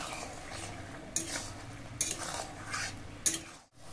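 Tomato pickle with salt being stirred in a pan, a soft sizzle with several distinct scraping strokes of a utensil against the pan.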